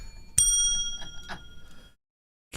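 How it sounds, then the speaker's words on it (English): A bicycle-style bell being freed from a tangle of wires: one sharp ring that lingers and fades, followed by faint rattling and clinks of handling, then a brief silence. "let me undo my bell from this tangle of wires"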